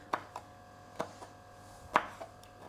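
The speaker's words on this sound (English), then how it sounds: "So I'm now just going to chop them up." Knife chopping char-grilled chillies on a board: a handful of sharp, separate taps at an uneven pace, close and fairly quiet against a hushed room.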